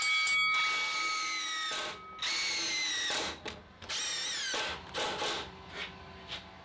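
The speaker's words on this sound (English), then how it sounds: "Let's see how our impact wrenches can do the job of impact drivers." Makita and Dewalt impact wrenches driving a bit through an adaptor, loud rapid hammering bursts with high whine, several starts and stops close up, no talk.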